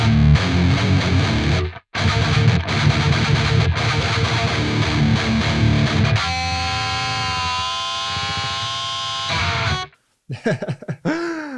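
Heavily distorted electric guitar chords ring out loud and gritty through the Neural DSP Archetype: Gojira amp plugin, with a brief pause, then sustained droning notes before a short squealing bend at the end.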